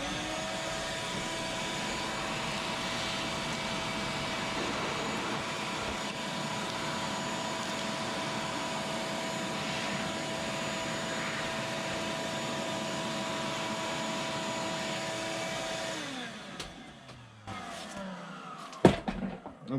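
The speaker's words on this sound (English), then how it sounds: "before we open this up, we're going to vacuum it one more time." A shop vacuum runs on a 1971 Buick GS engine casting, a steady whining drone for about sixteen seconds before it shuts off, followed by a few knocks of handling.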